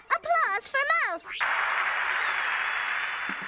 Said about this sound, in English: Applause for Mouse.